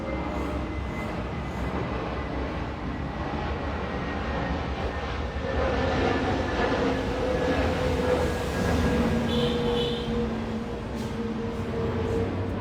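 An airplane passes overhead, heard from a home veranda on a sunny day after rain: a steady broad rumble that swells in the middle and then eases off, with no voices.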